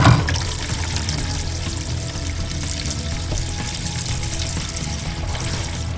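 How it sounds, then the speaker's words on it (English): Water rushes and gurgles steadily as a bathroom sink basin drains through a pop-up drain. The sound is close and continuous, with no voices. "we're going to dump the water and make sure nothing leaks"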